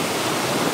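Wind and sea waves at Itamaracá beach in Pernambuco make a steady, loud broadband rush with no breaks or voices across this very short moment.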